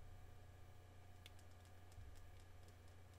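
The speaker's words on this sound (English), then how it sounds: "Can I hear the clicking of my buttons?" Keyboard buttons clicking softly near a desk microphone, a short run of light taps over a steady low hum, no voices.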